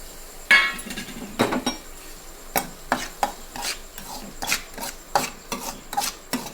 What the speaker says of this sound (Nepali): यसमा चाहिँ म अब सुजी हालिरहेको छु।